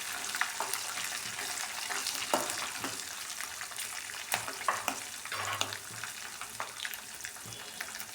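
Split green chillies frying in pulihora gravy give a steady, close sizzle, with occasional stirring scrapes and soft clicks running through it. No one speaks.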